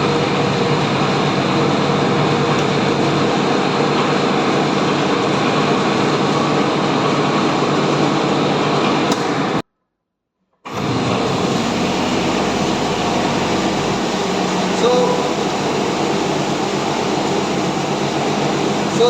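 A centrifugal pump runs in a mechanical engineering fluid mechanics lab, giving a steady, loud broadband hum and whir. It cuts out briefly near the middle, then continues unchanged.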